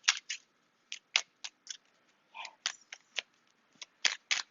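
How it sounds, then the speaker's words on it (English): Tarot cards being shuffled by hand: a string of short, crisp riffling bursts and soft slaps in uneven rhythm, close and fairly quiet, with no talking. "I know the shuffling takes the longest."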